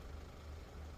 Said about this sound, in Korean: 차 엔진 소리 죄송합니다.